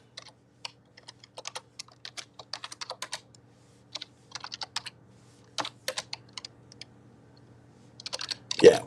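Typing on a computer keyboard, with irregular bursts of quick key clicks and short pauses across the whole stretch, ending in a louder knock or thump.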